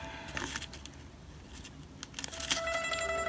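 Origami paper being creased and folded by hand, soft crinkling and rustling with a few sharper crackles, quiet and close, with no talking.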